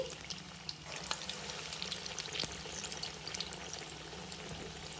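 Moong dal vadas (pesara garelu) frying in hot oil over a medium flame, a steady soft crackling hiss running throughout with a few faint clicks, no voices.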